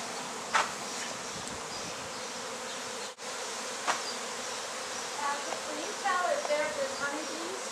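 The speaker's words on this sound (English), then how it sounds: "inspecting the location where the bees were entering above a lamp, and swarm showed up" A swarm of Africanized bees drones in a steady, dense buzz at a retirement home, with a near bee whining past briefly and voices talking faintly under the hum.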